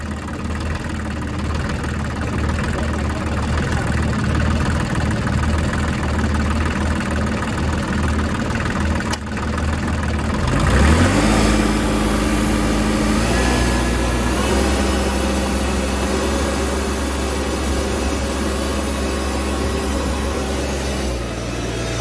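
A New Holland TC29 diesel tractor idles roughly and loudly up close, a steady low rumble with a knocking edge; around the midpoint the engine note shifts and settles into a heavier, lower idle that continues to the end.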